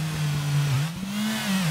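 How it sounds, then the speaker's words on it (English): A car drives in from the right in a Unity game demo, its steady engine hum rising and falling slightly as it passes close by, with no talk over it. "Got a car coming in from the right."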